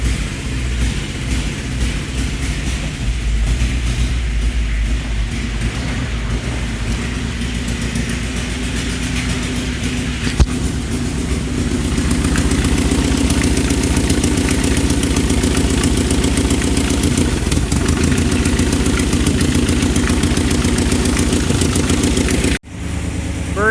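A revived 1989 Toyota pickup engine runs steadily at close range, with a constant low rumble that picks up slightly in loudness partway through and then cuts out briefly near the end.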